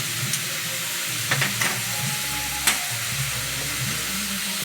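Vegetables stir-fried in a pan with chili paste and spices, a steady close sizzle with scraping stirs and a few sharper clatters of the spatula.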